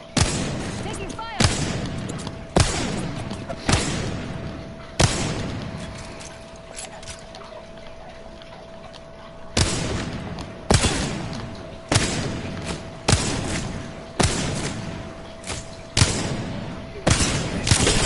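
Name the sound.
gunfire in a video game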